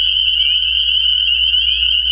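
A loud, continuous high-pitched trilling chorus of frogs, dense and unbroken throughout, close by with a low hum underneath.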